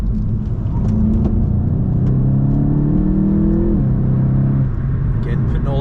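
A VW Mk7.5 Golf GTI TCR engine accelerating at full throttle, a steady loud droning rise in pitch through the gear, with a brief dip at a gear change, heard from inside the car over road noise.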